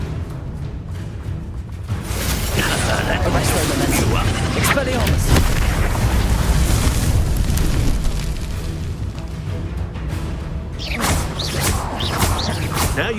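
Expelliarmus spell effect from a Harry Potter video game, a loud, sustained booming blast with heavy rumbling texture, swelling and continuing amid game combat noise, with some voice mixed in.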